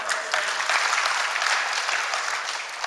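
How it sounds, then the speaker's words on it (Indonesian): Applause for the moderator at a national banking seminar, a steady burst of clapping from a seated audience lasting about three seconds and tailing off at the end. "Kita kasih tepuk tangan dulu Mas Moderator."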